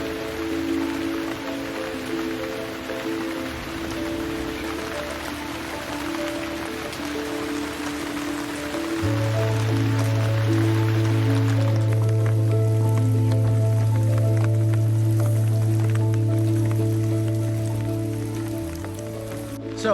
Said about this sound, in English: as you can see, it's raining very badly.